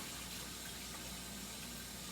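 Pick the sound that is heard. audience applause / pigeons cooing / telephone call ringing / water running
water running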